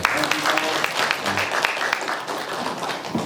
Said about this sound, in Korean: 환영의 박수 한번 부탁드리겠습니다